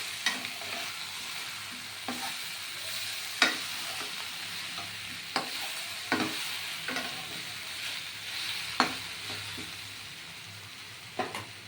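Green jackfruit is stir-fried in ghee with sugar, a continuous close sizzle broken by regular sharp knocks and scrapes of a spatula against the pan, about one every second or two, with no voices.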